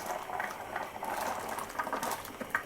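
Carrots dropped into a wok of boiling water, giving a steady bubbling, churning simmer with small clicks and splashes, close and fairly quiet, no voices.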